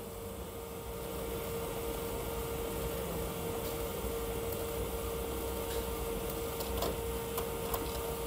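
A DTF A3 printer built on an Epson L8050/L18050 runs a print job, giving a steady mechanical hum with a constant whine and faint clicks from the moving head, heard alone at a moderate distance.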